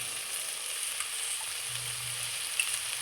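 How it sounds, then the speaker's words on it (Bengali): Fried paneer drops into a sizzling chickpea and potato masala, a faint, even hiss of hot oil that runs unbroken with a couple of tiny taps. "এবার আমি দিয়ে দিচ্ছি ভেজে রাখা পনির"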